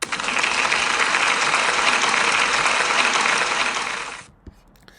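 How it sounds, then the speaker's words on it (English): A school assembly audience applauds a pupil, a loud dense burst of many hands clapping that runs steadily for about four seconds, then cuts off abruptly into near quiet with a faint knock. "But can we give Louis a big round of applause, please?"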